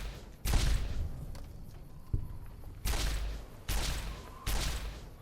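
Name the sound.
gunfire in the video game Fallout New Vegas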